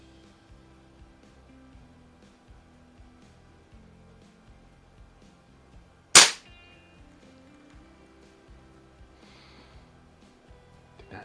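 A Benjamin 137 air pistol fires once at a target, a single sharp, loud close crack standing out from quiet background hum.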